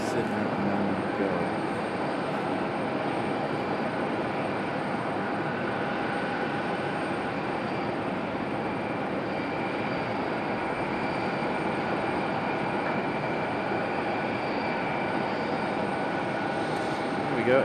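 A Delta Airbus A320 departs Raleigh-Durham International Airport, its steady broadband engine roar holding at an even, fairly loud level throughout, with no break or change in intensity.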